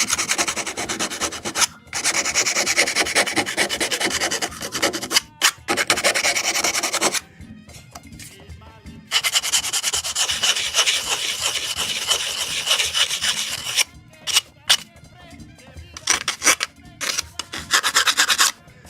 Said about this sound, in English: Just deburr as well here.